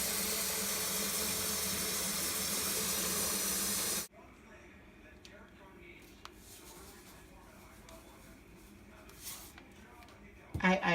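A kitchen tap runs cold water in a strong hissing gush for about four seconds, then cuts off abruptly, leaving quiet room tone with small clicks and a brief knock at the end.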